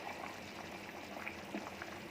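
Potato curry bubbling and simmering in a pot on a gas stove at medium-high heat to thicken, a steady soft gurgling boil with scattered small pops, fairly quiet and continuous.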